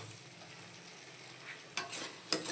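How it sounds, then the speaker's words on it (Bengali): Gobindo Bhog rice is stirred and fried with spices in a pan, a faint low sizzle broken by a few sharp scraping stirs near the end, quiet and without voices. "চালগুলো দিয়ে আমি এখন একটু কষাবো।"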